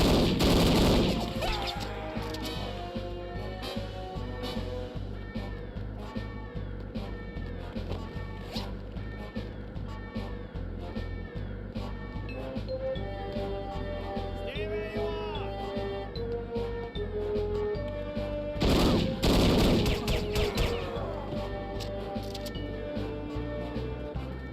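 Enemy gunfire in the video game No One Lives Forever, a long stretch of rapid, steady shots repeating under background music, with a louder burst near the end.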